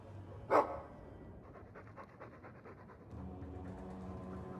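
Mabari war dog from Dragon Age 2 panting in a steady, soft rhythm of quick breaths at close range, preceded by a brief sharp sound, with game ambience and a low music bed underneath.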